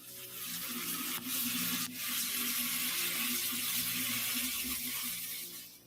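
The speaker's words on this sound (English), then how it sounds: "the bathroom faucet started to run all on its own" Water streams steadily from a bathroom faucet into the sink, a continuous hissing rush with a couple of brief knocks early on, fairly close and alone.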